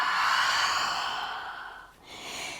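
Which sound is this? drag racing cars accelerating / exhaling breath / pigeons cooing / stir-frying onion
exhaling breath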